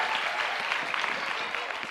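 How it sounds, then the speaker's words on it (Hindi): A quiz show audience claps for a contestant, a dense burst of steady, even applause that carries on for the full two seconds at moderate volume without letting up. "जोरदार तालियां बजाइए"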